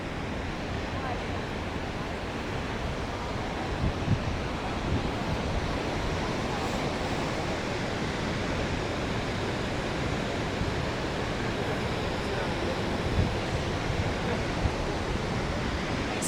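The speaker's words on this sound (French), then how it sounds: "Alors, on arrive à quelques mètres. De moi, il y a les chutes." A waterfall roars in a loud, steady, unbroken rush of broadband noise, with wind buffeting the microphone and no voices.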